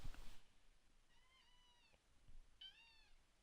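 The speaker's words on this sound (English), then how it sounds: "Normally a very talkative, noisy cat to begin with" A talkative, noisy pet cat gives two distinct meows about a second apart, fairly quiet and close, with a soft thump at the start.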